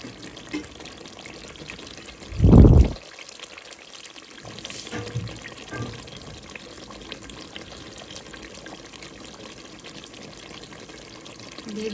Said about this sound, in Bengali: দিয়ে দিলাম গরম পানি।